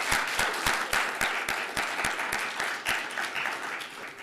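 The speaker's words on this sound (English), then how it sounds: "I don't mind you clapping" Audience clapping at an Arizona Redistricting Commission public hearing in Yuma, a steady, sustained round of applause from a roomful of people with sharp rhythmic claps standing out near the front, moderately loud throughout.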